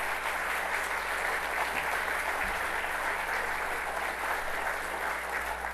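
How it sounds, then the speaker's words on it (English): Sustained applause from an audience at an awards ceremony in Port of Spain, an even wash of clapping that holds steady for several seconds with no break. "I believe all our laureates deserve a round of applause."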